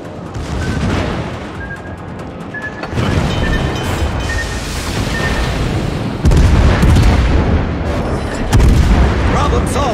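Heavy booms and rumbling blasts from torpedoes striking a burning Goliath warship on the Shards map of a naval battle game, loud and dense, with repeated impacts swelling midway and near the end under game speech.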